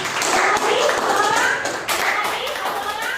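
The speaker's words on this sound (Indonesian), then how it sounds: "Tepuk tangan untuk teman-teman." Classroom applause for classmates in an Indonesian school lesson, a moderate patter of hand claps from a small group, fairly close, with voices talking underneath.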